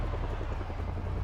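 Continuous low thrumming of helicopter rotors in the video game Project Zomboid, steady and fairly loud, with a faint rhythmic beat and no talking.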